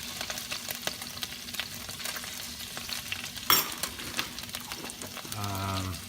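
Ginger sizzling and frying in a pan for Mongolian beef, with steady crackle and stirring scrapes throughout, a sharper clatter midway and a low hum near the end; a voice speaks faintly in the background.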